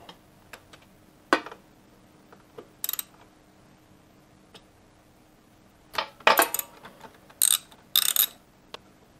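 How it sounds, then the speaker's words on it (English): A T40 Torx ratchet loosens the brake caliper mounting bracket on a Harley-Davidson Pan America motorcycle, giving scattered sharp ticks and quick ratcheting clicks at close range, with a flurry of metallic clicks near the end and no talk. "that's going to be a T40 Torx to undo the caliper mounting bracket."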